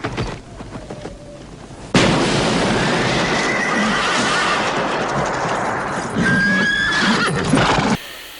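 A horse in a film scene neighs loudly and suddenly after a quieter opening, with whinnying and hoof clatter in a dense, cinematic mix that rises again near the end before cutting off.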